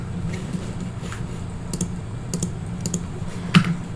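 Light tapping on a computer keyboard, scattered keystrokes at an uneven pace, fairly faint and close, with one sharper click near the end and no talking.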